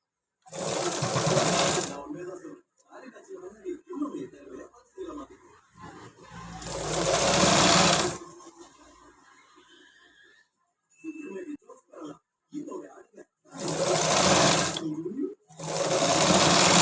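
A sewing machine stitches a seam on a child's tracksuit in several loud, buzzing runs of a few seconds each, separated by pauses where a person talks.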